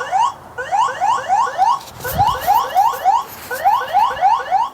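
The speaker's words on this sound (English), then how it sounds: "You have the option to enable a siren within the live view of the application. And this is pretty loud." A security camera's built-in siren, rated up to 120 decibels, blares alone: a loud, repeating rising electronic whoop in quick cycles, briefly broken near the middle by a short low thump.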